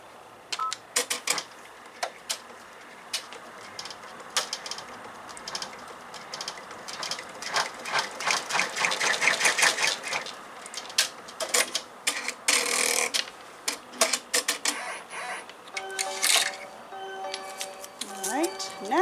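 An in-the-hoop embroidery machine stitches vinyl for a Minnie appliqué zipper pouch, giving off rapid mechanical clattering and ticking in uneven bursts that swell and fade, close up and fairly quiet.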